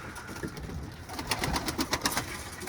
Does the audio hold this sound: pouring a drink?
no